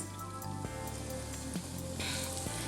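Finely chopped onion fries in melted butter with a steady, quiet sizzle and light crackle like rain, under a continuous background of music.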